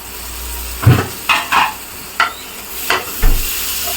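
Tomato stirred into frying mutton gravy: a low steady sizzle under five or six distinct scraping, clattering stirs of a spoon against the pan, close and fairly loud.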